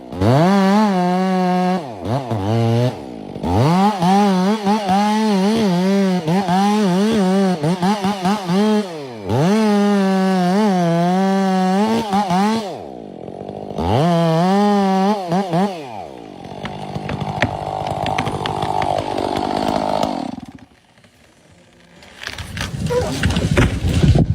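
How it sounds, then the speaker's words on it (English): A chainsaw cuts into a large tree trunk, loud close engine revving in repeated surging bursts with short gaps, then a harsher, noisier stretch of cutting near the end. "a strong female worker operates a chainsaw, cutting into a large tree trunk"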